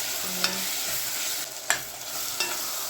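Spoon stirring porridge with meat and spiced satsebeli sauce in a pan, heard as a steady sizzle with three short scraping strokes spaced about a second apart.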